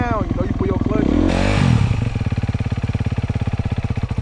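A dirt bike engine revs in first gear up close, rising in pitch briefly and then settling into a steady, throbbing idle-like putter, with a voice speaking over the start.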